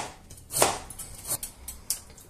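A knife chops through a potato on a cutting board: a handful of sharp, crisp chops at uneven intervals, close and moderately loud, with no talking.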